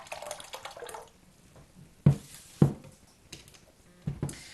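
Liquidised paper pulp is poured into a half-full tank of water, giving soft splashes and trickles with a few sharper sloshing plops spread over several seconds, close and fairly quiet.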